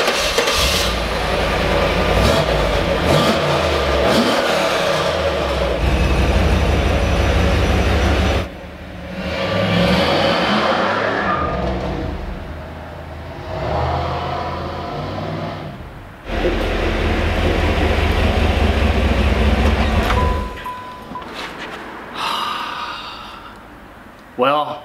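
A Pontiac Firebird Trans Am with an LT1 V8 out on a test drive, heard from inside as a loud, steady engine drone and road rumble that rises and falls with gear changes and brief lifts off the throttle.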